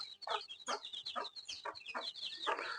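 Indoors in a house, a brood of about twenty young chickens clucks and cheeps in repeated short bursts, close by and fairly faint, with no talking.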